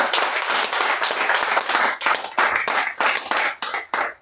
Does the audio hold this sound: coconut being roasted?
no